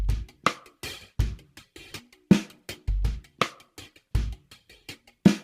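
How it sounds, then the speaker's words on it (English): Isolated drum verse mix of kick, snare and hi-hat close mics with everything else muted: punchy low kicks and sharp snare hits in a steady groove with ticking hi-hat, loud and dry, no voices. "all that's happening is the kick mics, one of the snare mics, the hi-hat mic"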